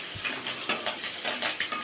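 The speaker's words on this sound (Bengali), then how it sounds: "আমরা তোমাদের সামনে আমরা তেল দিয়ে চিংড়ি মাছ ভাজছি।" Prawns fry in oil in a home kitchen pan with a soft background sizzle, broken by several light clinks and scrapes of a utensil against the pan.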